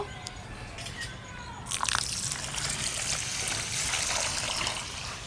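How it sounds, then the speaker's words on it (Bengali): Water sloshes and trickles as Gobindobhog rice is soaked in a kitchen, a steady splashing pour building after a quieter start, with a low background rumble. "এখন আমি গোবিন্দভোগ চালটা ভিজিয়ে নেব"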